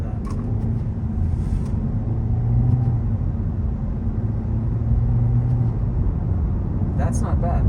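A Kia Forte GT-Line with a CVT accelerates, giving a steady, smooth engine drone from inside the cabin, with a few faint clicks over it.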